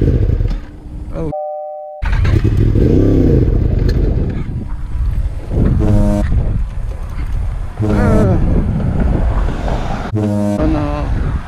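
A Yamaha R1M sport motorcycle running on E85 fuel is ridden, its engine droning loud and near with rising and falling revs, a few sweeping pitch climbs and brief chime-like tones, and a short dropout near the start.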